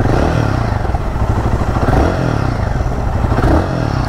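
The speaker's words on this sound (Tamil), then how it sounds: "எக்ஸாஸ்ட் நோட் கேட்குறீங்களா? ஐடிலிங் வந்து 1500 RPM நிற்குது." Royal Enfield Guerrilla 450 single-cylinder motorcycle idling steadily at about 1500 RPM, a continuous close, loud low exhaust thrum with mechanical clatter and no talk.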